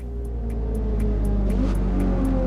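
Race car in Forza Motorsport slowing and pulling off to the roadside, its engine a loud, steady low rumble close up, with faint rhythmic ticking above it and no speech.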